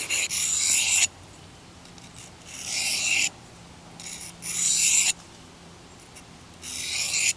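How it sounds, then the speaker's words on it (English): A Condor Bushlore knife blade is drawn along a ceramic sharpening rod in repeated loud, hissing rasping strokes about a second long, separated by short quiet pauses, close and alone without talk. "Now we're just taking our Bushlore to the ceramic rod."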